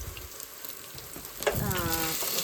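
Garlic and ginger frying in a pan with mustard seeds, a faint steady sizzle that swells suddenly as the ingredients drop in, then crackles on busily with a whistling hiss.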